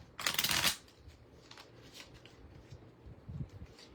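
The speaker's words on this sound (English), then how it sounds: "I actually prefer to shuffle these as sort of 2 decks and then combine them." A large stack of cards is riffle-shuffled as two decks: a loud, brisk burst of fluttering clicks lasting about half a second, then quiet handling with a few soft taps and rustles.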